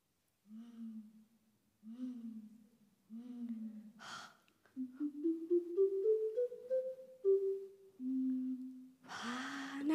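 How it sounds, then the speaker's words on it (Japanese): A large ocarina plays a slow, soft, breathy melody in a low register, sustained notes stepping upward with audible breaths and a sharp intake between phrases, close and alone. "大きなオカリナはこんな音がします。"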